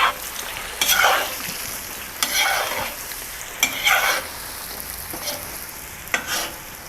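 Fried potatoes, seasoned with salt and pepper, are stirred in a hot pan. Steady sizzling runs throughout, with loud scraping sweeps of the spatula about every second or so.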